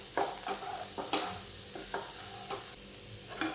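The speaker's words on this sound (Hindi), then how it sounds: "थोड़ा सा हरा धनिया, इसे भी अच्छी तरह से मिक्स कर लेंगे।" Puffed rice upma being stirred in a pan with salt and chopped coriander, a soft sizzle under regular scraping strokes of a spoon, moderately close and without speech.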